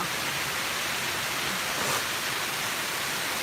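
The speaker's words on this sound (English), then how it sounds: "It's pouring down too, y'all. Y'all hear that rain?" Heavy rain pours down outside in a steady, dense wash of noise that holds unchanged throughout, with no voices over it.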